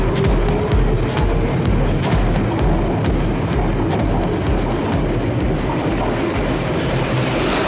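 A London Underground Piccadilly line train runs at speed, a loud, constant roar with steady clickety-clack of wheels over rail joints and no talking.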